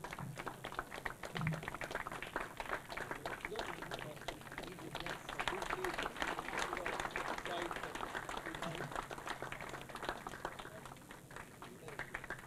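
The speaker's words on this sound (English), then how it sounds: "I request you to give them a big applause for this." Audience applause at a golf prize presentation at DLF Golf and Country Club, a steady spread of many hands clapping, fairly faint and distant, carrying on for several seconds.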